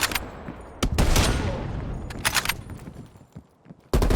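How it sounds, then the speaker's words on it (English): Gunfire crackles through a Call of Duty Black Ops Cold War battle, with several sharp close shots and bursts separated by pauses over a steady rumbling backdrop, ending on one more abrupt shot. "They're shooting at us!"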